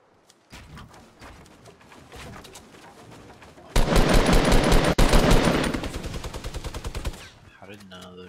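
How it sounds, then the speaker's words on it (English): Gunshots in Fortnite start as scattered pops, then become a loud, rapid string of close automatic fire that tapers off into sparser shots. "How did none of those shots hit?"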